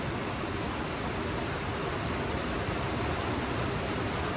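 Water from a waterfall running over rocks and spilling from a pool below, a steady broadband rush with no breaks, close and fairly loud, heard alone.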